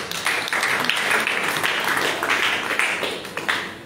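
A church congregation applauding to acclaim Jesus, a steady wash of clapping that holds for a few seconds, close and fairly loud.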